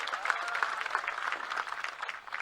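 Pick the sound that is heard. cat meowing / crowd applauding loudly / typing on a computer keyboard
crowd applauding loudly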